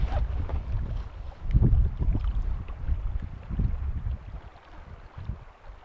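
Strong wind buffets the microphone outdoors on a Scottish loch during a pack raft trip, a continuous low roaring rumble with gusts swelling and easing, loud and close, with no talking.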